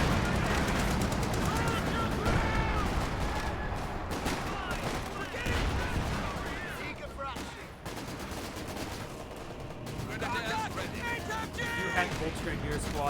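Machine-gun fire and scattered gunshots from a Company of Heroes 2 match, an MG raking a Grenadier squad, crackle in dense bursts through most of the stretch, loud and continuous, with a commentator talking over it.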